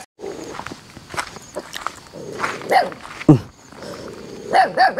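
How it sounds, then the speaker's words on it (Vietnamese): A puppy barking in sharp yips inside a rural home, mixed with footsteps and shuffling movement nearby, with faint voices in the background. "Hôm nay vô nó gặp mình nó cũng sủa này cả nhà"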